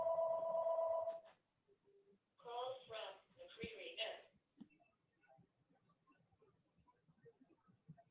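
A telephone rings once in a quiet room, a steady electronic tone lasting about a second, followed by a brief distant voice and faint low murmuring.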